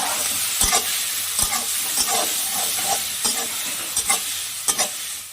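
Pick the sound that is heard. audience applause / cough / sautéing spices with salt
sautéing spices with salt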